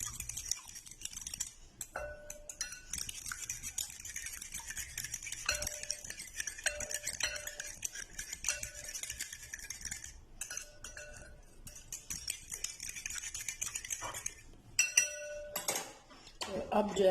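A spoon clinks against a dish while chicken is mixed with dried chili, garam masala and coriander powder, making repeated light metallic taps under a voice.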